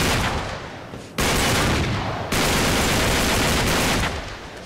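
Dense automatic gunfire in the Uncharted 3 video game, loud continuous bursts firing in long sustained volleys with brief breaks between them, no voices over it.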